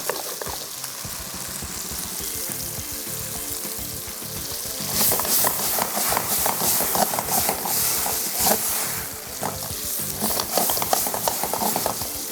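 Chilli chicken fries on high heat in a pan, a loud steady sizzle with stirring scrapes that grows busier midway, with no talking.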